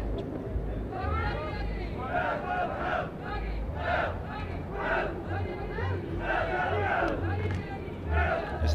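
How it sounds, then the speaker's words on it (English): Wales supporters at a street football match at the Homeless World Cup, a lively crowd roaring and shouting in swelling bursts beneath steady commentary. "Listen to that Wales crowd."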